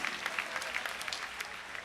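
A church congregation applauds steadily throughout, a dense crowd clapping at moderate distance with no pause.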